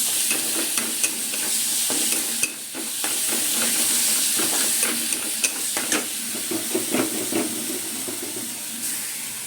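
Ginger and garlic sizzle in a pan while a spoon stirs them. Repeated scraping clicks and knocks land over a loud, continuous frying hiss, close by, with no talk.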